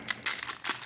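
A Yu-Gi-Oh booster pack's foil wrapper crinkles and tears open close up, a brief burst of bright crackling rustles.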